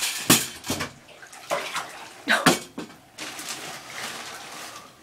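Water splashing and running in a bathtub while a boa snake is bathed, in uneven sloshing bursts with clattering knocks, close and fairly loud.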